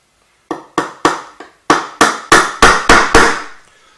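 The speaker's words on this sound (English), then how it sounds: "I tend to simply nail through the flat side and not try to nail through the bevel side" A hammer drives nails into a wooden beehive frame in about nine sharp, close blows: a few quick strikes, a short pause, then another steady series, with no voices.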